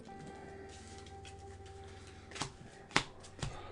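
A deck of cards being shuffled during a tabletop game of Eminent Domain, soft riffling rustle building into a few sharp snapping bursts near the end, quiet and close.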